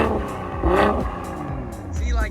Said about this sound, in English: I like it more a little bit because it's like that straight 6 smooth sound